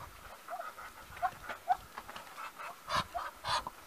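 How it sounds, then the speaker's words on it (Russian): Muscovy ducks at a farm nesting spot give short, soft, repeated calls over a steady background hum, moderately close and fairly quiet. "Сейчас покажу уточек."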